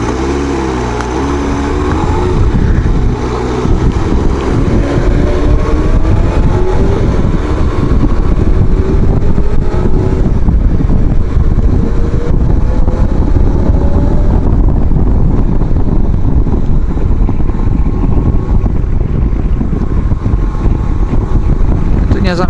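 A motorcycle engine is revved at full throttle with the clutch pulled in, so it screams hard in place with a steady, rising and falling drone. Heavy wind rush masks it, and a voice can be heard under the roar.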